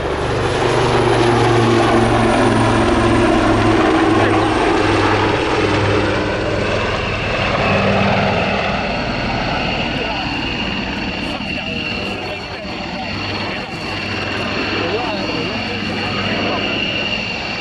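Royal Navy Wildcat Maritime Force helicopters hover at Yeovilton Air Day, their loud, droning rotor and engine noise steady and close, broken by a deep beating throb and a rising whine as they turn, with an announcer talking over it.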